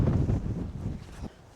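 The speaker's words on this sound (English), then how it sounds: "It is very windy, as always." Strong wind buffets the microphone on an exposed winter mountain hike in Wales, a loud, continuous low roar with gusty swells that eases slightly toward the end; no voices.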